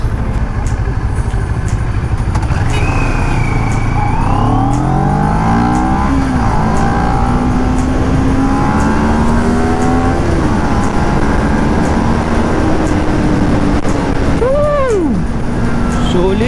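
A CFMoto NK400 motorcycle on its stock exhaust pipe revs loudly and close by. The engine note climbs repeatedly through the gears in rising sweeps, with brief drops between pulls.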